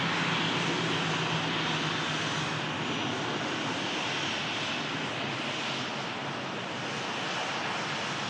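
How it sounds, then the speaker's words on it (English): A Ryanair jet airliner climbs out from Manchester Airport, a steady broadband engine roar filling the whole stretch, loud and continuous without talk. "Ryanair climbs out"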